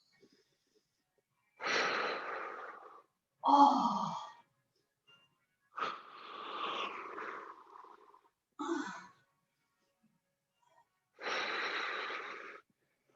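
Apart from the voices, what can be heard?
nasal breathing during a hip stretch exercise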